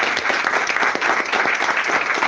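A congregation in church breaks into applause, with a dense, continuous wash of many hands clapping at a steady level and no voices over it.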